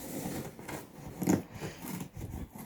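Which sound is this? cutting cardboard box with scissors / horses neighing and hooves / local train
cutting cardboard box with scissors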